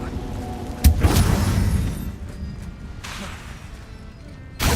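A Confringo blast spell cast in Hogwarts Legacy, a few sharp crashing bursts over a steady rumble, with one loud hit near the start and another at the end.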